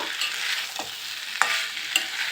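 Mixed vegetables and spices are stirred and fried in a pan, producing a continuous close sizzle marked by a couple of sharp spatula scrapes.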